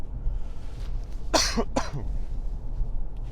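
Two quick, harsh coughs close by, one right after the other, over a steady low background hum.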